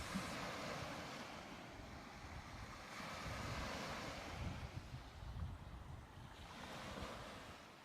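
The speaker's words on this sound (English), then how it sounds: "You've just got the waves" Waves wash against the shore of Bulago Island in Uganda, a continuous surging surf mixed with wind buffeting that swells and eases gently, with no voices.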